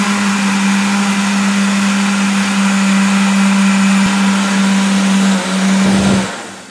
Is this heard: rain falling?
no